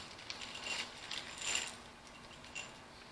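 New studs being tightened into the cylinder head of an Allis Chalmers WD45 tractor engine, giving faint metallic clicks and scraping of hand-tool work, several soft ticks spread across a quiet few seconds.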